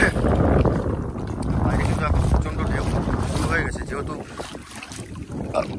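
A very small rowing boat with two oars moves along the Mata River in a Sundarbans creek. Steady wind buffets the microphone over a low, continuous wash of water, loud and close throughout.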